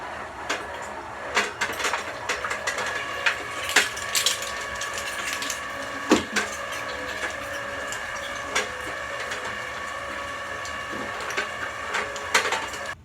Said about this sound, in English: We're going to run this once through the fine grind, first grind, which is the fine plate